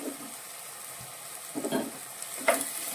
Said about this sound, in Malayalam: ഇതിനെ നന്നായിട്ടൊന്ന് വഴറ്റിയെടുക്കാം.